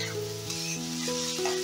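Chicken pieces frying in hot oil in a pan for a Bengali green chicken dish, a steady close sizzle with faint stirring and no talk.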